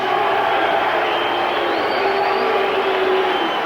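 Boxing arena crowd reacting to the introduction of heavyweight Greg Page, a loud, steady roar of cheers and shouts mixed with apparent boos that fills the whole moment without letting up.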